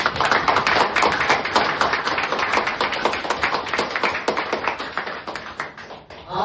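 A crowd claps loudly and steadily for several seconds, dense applause that gradually thins and fades toward the end.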